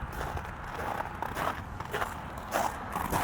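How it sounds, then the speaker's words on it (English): Footsteps crunching through snow beside a 2021 Toyota Venza Limited, close and fairly quiet, with a series of uneven crisp crunches. "Another good day for ASMR crunchy snow if you're wearing headphones."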